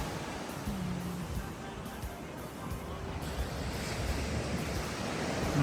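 Surf rolls in on a Cancun, Mexico beach as a constant, even wash of waves with light wind noise underneath, fairly close and steady throughout, nobody speaking.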